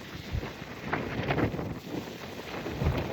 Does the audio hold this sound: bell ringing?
no